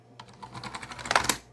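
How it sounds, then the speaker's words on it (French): Quick typing on a computer keyboard during a test, a brisk, close run of clicking keystrokes that grows louder and ends in a few hard taps. "Je vais tester mon clavier."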